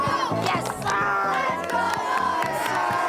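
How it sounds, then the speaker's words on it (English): Boys of a flag football team cheer and shout together in a loud, rhythmic group chant, voices rising in repeated bursts outdoors. "Let's get a little cheer and we'll put some music on."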